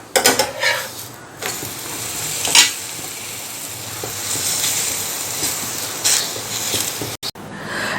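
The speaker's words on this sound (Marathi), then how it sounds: "आणि अशाच पद्धतीने आपण सुद्धा भाजून घेऊया पलटून घेऊयात" Sabudana thalipeeth roasts on a hot pan with a steady close sizzle and occasional scraping clicks as it is flipped, with no talking.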